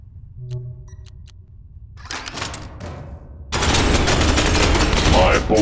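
Space marine bolter fire in Space Hulk Ascension, a few sparse clicks and shots at first, then a loud continuous burst of rapid gunfire in the second half.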